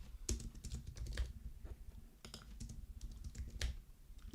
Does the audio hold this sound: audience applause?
no